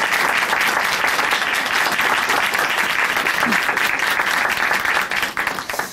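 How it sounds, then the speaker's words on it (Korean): A church studio audience applauds continuously for a testimony guest, with a dense, loud clapping that stays even throughout before starting to thin out near the end. "김신혜 자매님께 다시 한번 박수 부탁드릴게요"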